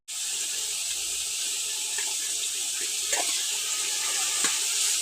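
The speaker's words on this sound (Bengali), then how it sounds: "এবার আমি লতার সাথে মশলাটাকে কষিয়ে নেব।" Boiled taro stolons being stir-fried with spices after onion and tomato: a loud, even hiss fills the pan from start to end, with a few faint knocks of stirring underneath.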